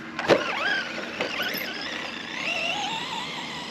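An Arrma Quake RC car accelerating on a skate park, its electric motor whining and rising in pitch after a sharp initial pop, sustained and moderately loud, with no talking.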